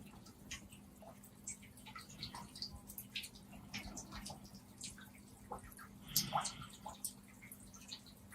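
Gentle water drips and trickles in a quiet natural setting, scattered soft plinks over a faint steady hum, with a slightly fuller splash near the end.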